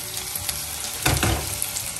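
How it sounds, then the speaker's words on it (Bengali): Cubed potatoes fry with onions in a pan, giving a steady close sizzle with a brief louder crackle and stir midway, no talking. "এখন আলুটাও পেঁয়াজের সাথে ভেজে নিই।"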